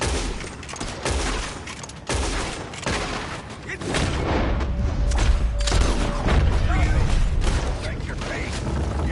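Gunfire in the Red Dead Redemption 2 video game, a rapid barrage of shots and booming reports, some clustered, others spaced, growing denser and louder after the first few seconds.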